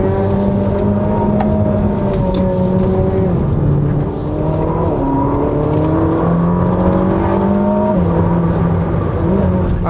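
A Ferrari SF90 Stradale in race mode pulls hard along a winding mountain road, its engine droning loud and steady from inside the cabin, pitch rising through each gear and dropping at several early upshifts.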